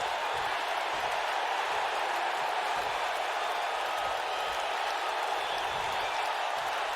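Steady, even applause and cheering from a wrestling crowd in Brooklyn for Montez, a dense roar filling the whole stretch without letting up.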